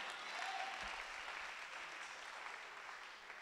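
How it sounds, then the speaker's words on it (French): A church congregation bursts into steady applause acclaiming the Lord, a broad even clatter of many hands filling the room, fairly soft and sustained throughout without speech. "Est-ce que quelqu'un peut acclamer le Seigneur?"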